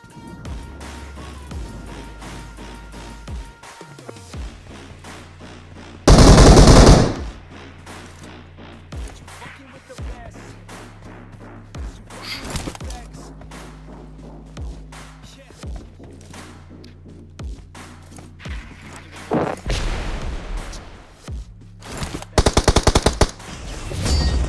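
Automatic gunfire in PUBG Mobile rattles in repeated bursts, with a few very loud close volleys standing out among quieter distant shots over a steady game soundscape.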